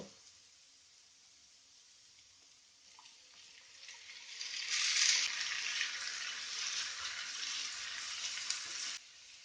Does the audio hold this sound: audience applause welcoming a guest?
no